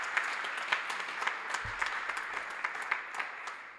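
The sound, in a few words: audience applause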